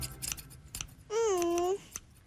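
In an Icelandic-dubbed Charlie and Lola children's cartoon, a pair of scissors gives a cartoon snip: a few light clicks, then a bright, sustained, slightly bending tone, with soft sounds around it.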